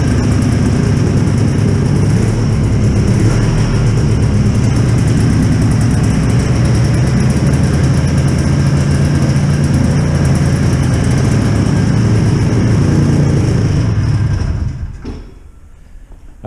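A 2011 Yamaha Bravo long-track snowmobile's 18-horsepower engine idles steadily and loudly up close for about fifteen seconds, then cuts off into near silence.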